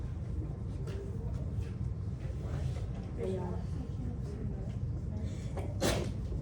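A single sharp sneeze bursts out near the end, over a steady low rumble and faint background murmur.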